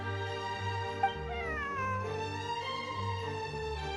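A cat meows repeatedly in a Genshin Impact cutscene, with steady, moderately loud calls and no talking.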